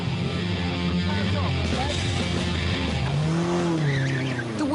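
A car engine roars steadily during a wheel spin as tyres squeal in long wavering screeches, loud and close, with a voice briefly audible over it.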